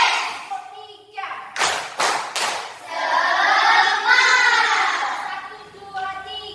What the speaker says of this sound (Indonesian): Tepuk satu, Bu, tepuk dua, yes, tepuk tiga